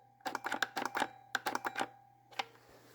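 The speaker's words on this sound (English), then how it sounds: "when I click it in, hit the trigger, it just makes a little click" Greenworks 80V cordless chainsaw with a full battery, its trigger pressed but the motor never starting: two quick clusters of light clicks, then one more click, over a faint steady hum.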